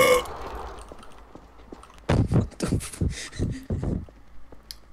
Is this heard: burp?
yes